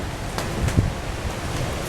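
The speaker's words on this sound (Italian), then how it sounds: "guardate il vento come si sta scatenando" Blustery storm wind roars steadily in Quartu, Sardinia, with buffeting gusts and low rumbling thumps against the microphone.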